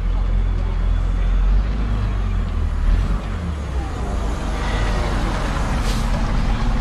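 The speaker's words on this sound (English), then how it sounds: "My favourite bus is coming through. It's a Metro Bus Mark II." A Metrobus Mark II double-decker rumbles past close by at a transport museum, deep engine drone with a brief hiss of air brakes, over general road noise.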